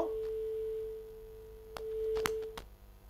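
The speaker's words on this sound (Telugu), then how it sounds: "ఫోన్ కాల్ కట్ అయిపోయింది" A steady electronic phone-line tone sounds after a caller's line drops during a live call-in programme. It holds one clear pitch for about two and a half seconds, then cuts off among a few faint clicks, with no voices.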